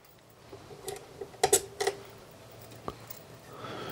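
A ball driver turns screws into the Bambu Lab A1 3D printer, giving a few faint, scattered clicks and ticks over quiet room tone with no talking.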